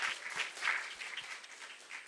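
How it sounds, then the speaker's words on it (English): Audience applause for a panel at a film expo, a steady dense patter of many hands clapping throughout, moderately loud with no speech over it. "a round of applause for our panelists"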